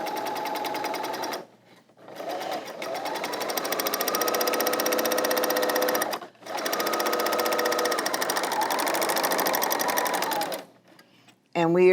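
A Brother L890 sewing machine forms a chain stitch, running loud and close in a steady rapid mechanical chatter, with brief pauses near two and six seconds and a stop at the end.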